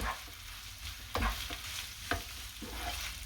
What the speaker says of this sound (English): We keep mixing, cooking it and mixing it for 5-6 minutes.